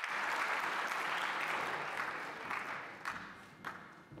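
An auditorium audience applauds the UNESCO Director General Audrey Azoulay at the launch of the Futures of Education report, dense steady clapping that fades slightly toward the end with a few sharper bursts.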